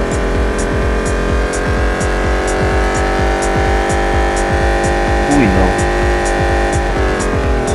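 A Lamborghini engine roars steadily in Real Racing 3, a loud, continuous throbbing drone with shifting pitch, and a brief spoken exclamation passes over it.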